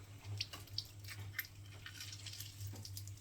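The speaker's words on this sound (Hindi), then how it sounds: "अब नींबू को निचोड़ लेते हैं।" A lemon is squeezed by hand for a green chutney, with faint wet squelches and a few small drips, soft and close over a steady low hum.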